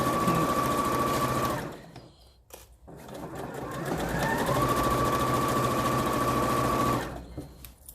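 A sewing machine stitches a fabric scrub bag in two long runs, a steady close whirring drone that stops for about two seconds in between, with fabric handling noises during the pause.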